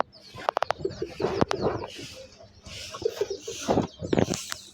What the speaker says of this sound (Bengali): কবুতরগুলো একসাথে অনেক খাবার খাচ্ছে, খুব সুন্দর করে খাচ্ছে আর কি।